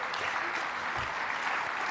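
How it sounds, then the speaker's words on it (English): Audience applause at a Basketball Manitoba awards ceremony, a steady wash of many hands clapping for the whole short stretch, with no voices over it. "I just want everybody to give a round of applause for every team member of Basketball Manitoba"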